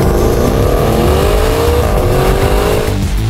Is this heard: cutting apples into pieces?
no